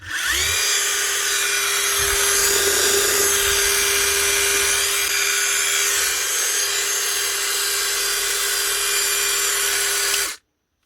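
A Metabo cordless power tool being run on test before teardown, a close, loud, continuous motor whine and whirr held steady for about ten seconds and then cut off abruptly, with no talking.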